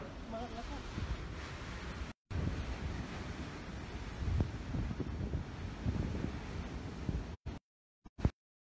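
Rough surf and gusting typhoon wind buffet the microphone, loud and continuous, before cutting out abruptly near the end.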